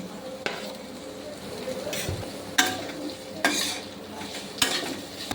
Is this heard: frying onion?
yes